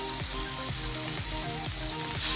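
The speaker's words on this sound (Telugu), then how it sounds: "ఇప్పుడు దీన్ని మనం తవా పెట్టుకొని కొద్దిగా ఆయిల్ పోసుకొని ఫ్రై చేసుకుందామండి." Chicken shallow-fries in a little oil on a tawa, giving a continuous loud sizzle with crackling and popping that holds steady and swells slightly toward the end.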